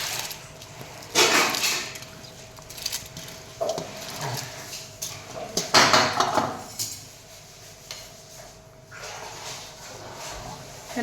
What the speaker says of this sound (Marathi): आता मी ह्यामध्ये बिर्याणीचा भात टाकते आणि त्याला आपण छान ढवळून घ्यायचं। चमच्याने मिक्स करून घ्यायचं।